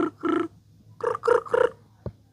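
A human voice imitates a cricket's chirp with a set of short, buzzy, voiced syllables in quick rhythm, one pair and then a trio, ending with a sharp click.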